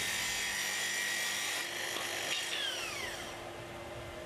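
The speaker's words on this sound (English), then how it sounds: "Now release the stop and make the full depth cut." A Makita SP6000 plunge saw runs on a guide rail through a full depth cut in wood, a loud steady high whine under load that winds down and fades near the end.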